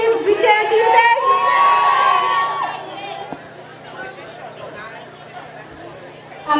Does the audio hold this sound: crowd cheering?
yes